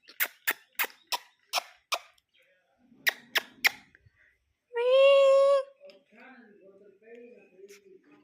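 A cat meows once clearly and fairly close, a drawn-out tonal cry lasting under a second, preceded by a quick series of sharp clicks or taps and followed by faint murmuring voices.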